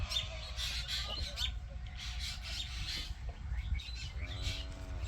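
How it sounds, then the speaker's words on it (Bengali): Harsh squawking bird calls repeat in bursts as birds fly away over crop fields, with a low outdoor rumble and a few thinner chirps mixed in. "এই যে দেখতে পাচ্ছেন পাখিগুলো উড়ে যাচ্ছে"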